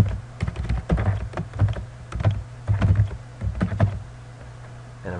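Typing on a computer keyboard, a quick run of close key clicks in short clustered bursts over a low steady hum, with no talking.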